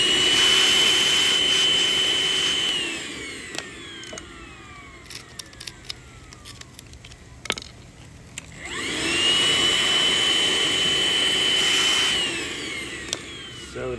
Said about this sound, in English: First thing you want to do is vacuum out